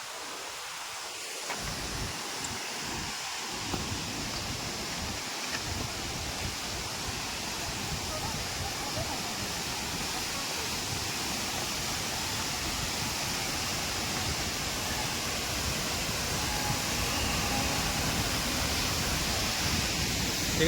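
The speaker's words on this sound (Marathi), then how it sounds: "हा धबधबा आहे मित्रांनो, एक नंबर धबधबा आहे." The Ukshi Ranpat waterfall in monsoon pours as a steady broadband roar that rises in the first seconds and then holds constant and dense for the rest, with no talk.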